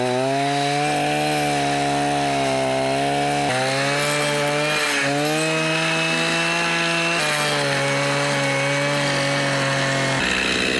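A chainsaw whines loudly and close while debarking logs, its engine pitch rising and falling as it bites into wood, with brief dips between cuts.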